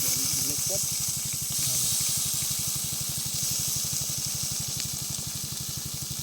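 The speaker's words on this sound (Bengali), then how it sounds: "টাটকা মাছ ধরে নিয়ে এসেই ভাজা হচ্ছে" A steady hiss of fresh-caught fish frying in hot oil runs throughout, over a low rhythmic engine-like thrum, with brief voices near the start, at a picnic beside the Sundarbans forest.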